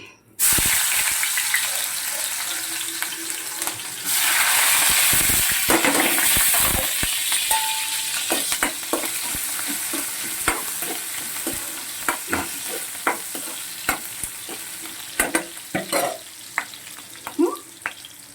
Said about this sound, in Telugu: కొంచెం అల్లం వేగాలన్నమాట. వేగితే టేస్ట్.